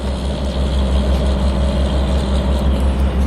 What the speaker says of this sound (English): maybe after we pass this noisy tow truck